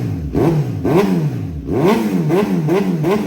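A motorcycle engine is revved up hard several times in a row, each blip climbing sharply in pitch before dropping back, loud and close.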